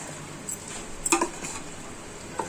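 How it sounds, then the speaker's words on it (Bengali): A metal spoon mixes raw beef by hand in a bowl for a spiced beef dish, with soft scraping and a few sharp clinks against the dish, fairly close and without talk. "হাতে মাখা, কিন্তু হাতে মাখাচ্ছি না, চামচে মেখে নিচ্ছি।"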